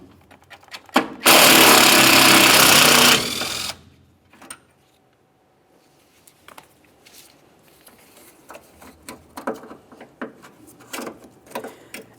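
A power tool whirs loudly for about two seconds while 8mm bolts are removed from a bracket on a Ford Transit Connect. Scattered clinks and handling noises follow.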